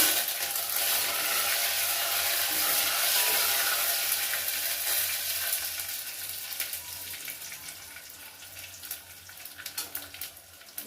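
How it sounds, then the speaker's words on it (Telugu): Steady hissing sizzle of tempering seeds frying in hot oil for tomato rasam, loud at first and easing off, with faint crackles toward the end. "తాలింపు గింజలు వేస్తున్నాను."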